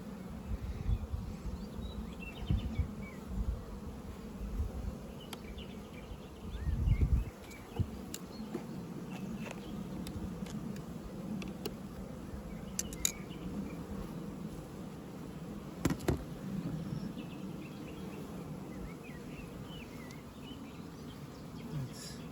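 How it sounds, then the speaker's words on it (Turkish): Dense, steady buzzing of many honey bees in an open beehive during colony splitting, a close continuous drone that holds throughout with a few brief louder swells. "Arı yoğunluğunu görüyor musunuz?"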